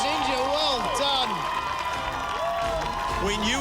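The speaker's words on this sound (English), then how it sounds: "Give him a round of applause" Studio audience applauding and cheering for a barefoot Australian Ninja Warrior contestant after the fastest run of the night, steady loud clapping with crowd noise under an announcer's excited talk and music throughout.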